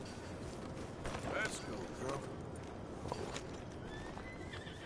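Horse whinnies and hoof clip-clop in the video game Red Dead Redemption 2, with a couple of neighs standing out over a steady game ambience and soft background voices.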